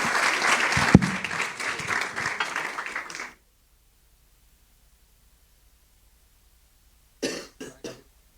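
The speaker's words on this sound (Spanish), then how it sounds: "Así que recibamos con un fuerte aplauso a Hugo." Seminar audience applause, a burst of clapping for about three seconds that cuts off abruptly, then silence, followed by a short cluster of coughs and throat clearing.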